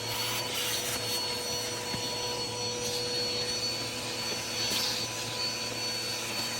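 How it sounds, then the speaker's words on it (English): A vacuum cleaner runs steadily at close range, sucking dust from a fridge vent, a continuous loud whining drone with faint rubbing and scraping along the nozzle and no voices. "Hopefully it just like snaps off and I can just get it in the vacuum there"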